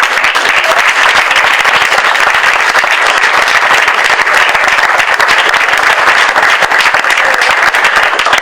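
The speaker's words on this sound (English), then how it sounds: "let's give them a round of applause for the work" Sustained, loud applause from a large audience at a Hoboken State of the City Address, honoring elected school board members; dense, even clapping fills the whole stretch without a break.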